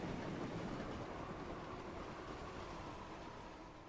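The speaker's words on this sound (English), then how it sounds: "We got the mail train, so obviously we're just passing right through town." A mail train rolls through a town in a Thomas & Friends video game, giving a steady, faint rumble of rail noise throughout with no talk.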